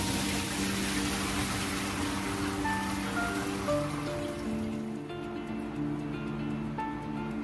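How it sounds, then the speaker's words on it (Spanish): Water pours and drains steadily from cooked figs in a kitchen, a continuous splashing rush under soft background music, easing slightly near the end. "Vamos a empezar a drenarle el agua a los higos."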